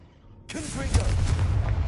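Confringo fire spell in Hogwarts Legacy bursting with a sudden loud blast that rolls on into a rumbling roar, with a voice calling out as it goes off.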